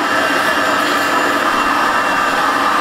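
Gold liberation grinder running with a filterless vacuum extraction system and cyclone separator, giving a loud, steady, continuous broadband roar and whine with no breaks.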